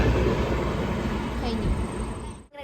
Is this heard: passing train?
yes